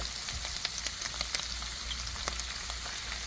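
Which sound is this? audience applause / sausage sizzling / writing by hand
sausage sizzling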